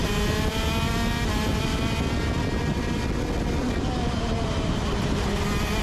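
Euro shifter karts racing at the South Garda circuit, a continuous high-revving two-stroke engine drone that holds steady and loud throughout, with faint talk beneath.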